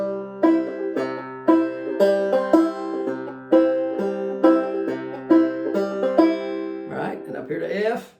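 A banjo picks the Honeysuckle pattern in F, bright plucked notes in repeating rolling groups with an even rhythm, close and clear, ending in a brief noisy scrape.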